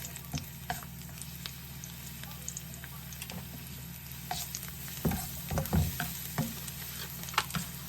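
Luffa gourd stir-frying in a pan: a steady low sizzle with a spatula scraping and clattering against the pan, growing busier and louder in the second half. No one speaks.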